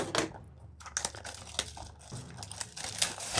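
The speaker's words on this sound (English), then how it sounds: "after we rip kind of the wrapper up" Plastic wrapper torn off a box of 2020 Panini Luminance football cards, a close crinkling and crackling that runs in uneven bursts throughout, with no voices.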